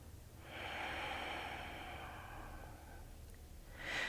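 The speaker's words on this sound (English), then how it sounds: "We take another full breath here." Someone takes a slow, deep breath during a seated yoga twist: a soft, breathy inhale and exhale that swells and fades, quiet and close, ending in a brief sharper puff.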